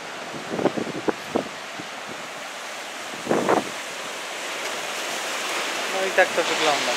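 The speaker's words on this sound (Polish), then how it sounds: "To teraz właśnie podbiła woda, gdzie szedłem." Ocean waves surge and wash over coastal rocks in a broad rushing swell at Cape Leeuwin, Australia, with a few brief splashes and knocks early on and steady outdoor wind.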